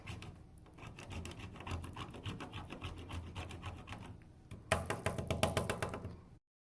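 Green, black and blue wax crayons are grated on a kitchen cheese grater, a quick run of dry rasping scrapes in steady rhythm, close and moderately quiet, growing louder and busier near the end before cutting off.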